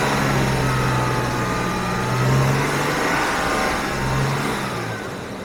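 A fading V12 engine, not running perfectly on all twelve cylinders, is held at raised revs: a steady, close, loud drone that swells slightly and then eases off, with no talking.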